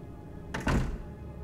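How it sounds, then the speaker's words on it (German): A door opening in Resident Evil 2, a single close wooden thunk with a brief creak and rattle, loud and alone with no voices. "Genau, hier war eine Tür"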